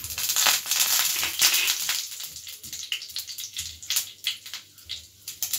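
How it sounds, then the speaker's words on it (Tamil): Mustard seeds hit hot oil in a pan while chicken kachori is being made, first as a dense hissing sizzle, then as thinning, irregular crackling pops close by. "இப்போ நம்ம கடுகு போட்டுடலாம்."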